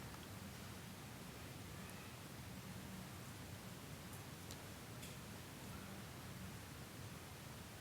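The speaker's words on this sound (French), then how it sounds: "Il pleut doucement dehors." Gentle rain falling outside a bedroom window, a faint, steady, even hiss with soft ticks, continuous and unchanging with no voices.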